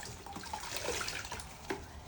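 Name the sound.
rinsing a mould under running water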